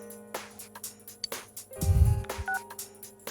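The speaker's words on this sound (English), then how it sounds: "The old phone call during dinner." A phone rings during dinner in the Persona 4 Golden video game, a short electronic tone sounding briefly among soft game ambience and a low thump.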